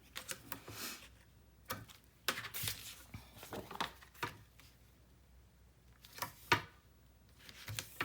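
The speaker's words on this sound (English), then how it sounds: "I'm going to tape this so that it's nice and sturdy" Quiet crinkles, taps and short tearing strips of tape being applied to a 9 x 9 mini album page, irregular close-up handling sounds with brief louder snaps between softer pauses.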